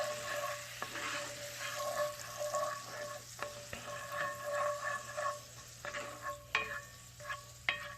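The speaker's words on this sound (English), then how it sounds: "Let's give this a stir." Someone stirs a sauce laced with Maker's Mark syrup in a pan, making scraping, clinking strokes in an uneven rhythm over a low sizzle. The sound is close and fairly quiet, with no speech.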